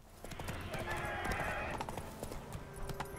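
Roach, the horse in The Witcher 3: Wild Hunt, trotting with a steady, rhythmic clip-clop of hooves, close and clear, while a person talks over it.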